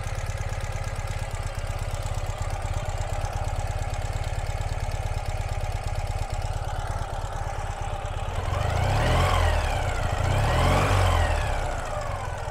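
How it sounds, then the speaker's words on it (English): A 2018 Ural motorcycle engine idles after a cold start, running steady and close up, then two light revs swell and fall away near the end. "Starts right up, barely had to use the starter. And we can just hear how nicely it runs, how quiet it is."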